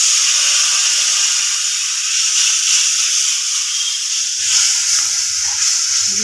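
Spice paste with chilli powder, Kashmiri chilli, salt and sugar for a potato curry frying in a pan, giving a loud, steady broadband sizzle with faint stirring throughout.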